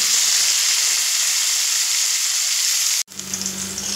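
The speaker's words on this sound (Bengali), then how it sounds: "উচ্ছে আমি মিডিয়াম ফ্লেম করে খুব সুন্দর করে ভেজে নিয়েছি" Bitter gourd fries on a medium flame with a loud, steady, close sizzle that suddenly cuts off near the end, followed by a quieter, lower bubbling.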